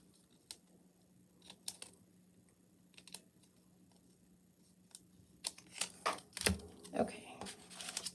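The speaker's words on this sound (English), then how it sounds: "I'm just gonna cut a little bit of the" Scissors snipping paper scallops for a scrapbook layout, with faint scattered cuts at first and then a denser run of close, crisp snips toward the end.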